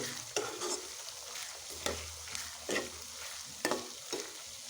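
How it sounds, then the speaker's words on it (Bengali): Chopped ginger, green chilies and onion fry in a pan, a steady sizzle broken by periodic scraping strokes of a spatula stirring, close and without talk. "কেটে রাখা আদা কুচি, কিছু কাঁচামরিচ কেটে রাখিছিলাম আগে, নেড়ে ছেড়ে সুন্দর মতো কষিয়ে নেব"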